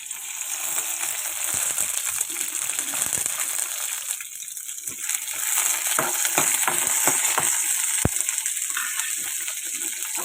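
Green chillies cut into pieces fry in a little oil in a pan, giving a steady, fairly loud sizzle with occasional stirring clinks and scrapes.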